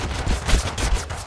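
Rapid gunshots from Totally Accurate Battle Simulator rattle off in a quick, loud burst of several close shots.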